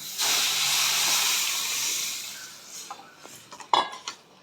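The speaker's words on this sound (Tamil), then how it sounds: "கரைச்சி வச்சுருக்கிற புளியும் தக்காளியும் எடுத்து ஊற்றிக்கணும்" Soaked tamarind and tomato liquid pours into a hot pan of sautéed fish curry base and hisses in a loud steamy burst that fades over a couple of seconds, followed by several spoon clinks and stirring sounds.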